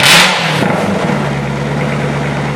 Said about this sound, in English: Corvette cold start. It's gonna be really loud because it's in this confined area.